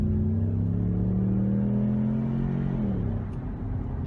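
A 2017 Ford Mustang accelerating, its engine holding a steady rising drone that drops in pitch near the end as it shifts, loud and continuous with no talking.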